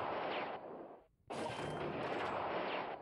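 Heavy artillery fire in the strategy war game World Conqueror 3, a dense, sustained roar of blasts broken by a brief near-silent gap before resuming loudly.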